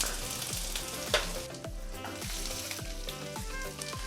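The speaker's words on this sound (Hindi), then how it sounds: "जैसे ये लहसुन और अदरक भूनने लग जाए" Steady, close sizzling of garlic and ginger frying in hot oil for dal makhani, with occasional stirring scrapes, continuous throughout.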